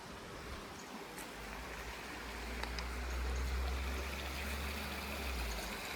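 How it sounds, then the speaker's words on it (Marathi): A small stream in the Konkan countryside flows steadily, a continuous close watery rush with a low rumble that swells slightly midway, heard alone without voices. "म्हणजे ओढा आहे छोटा"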